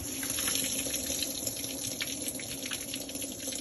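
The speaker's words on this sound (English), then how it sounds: "now when the water is drained" Water drains from a leaking Toyota Land Cruiser 80 Series radiator, pouring and gushing steadily in a continuous splashing flow at moderate, even volume with no voices.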